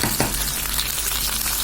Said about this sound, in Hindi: ये इस वक्त हो रही है मेरी भिंडी फ्राई थोड़े से ऑयल में।